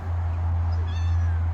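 A cat in an RV gives a faint, drawn-out meow, close by, over a steady low humming drone.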